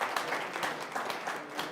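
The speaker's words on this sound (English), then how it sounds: "Can we have a round of applause?" An audience at a corporate partner winter retreat claps in a brief, fairly quiet burst of rapid, evenly spread hand claps.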